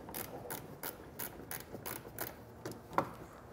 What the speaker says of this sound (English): You're going to probably need a ratcheting bit tool to get in there because it's a little tighter.